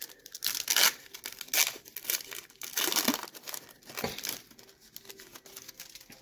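The foil wrapper of a 1990 Score hockey card pack is opened, giving close, continuous crinkling and tearing with louder bursts of crumpling throughout.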